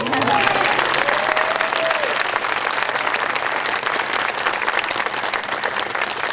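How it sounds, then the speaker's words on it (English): Sustained, dense applause from an outdoor crowd at a new animal shelter dedication ceremony, steady and loud throughout, with a voice briefly heard at the start. "I'd love to give her a round of applause"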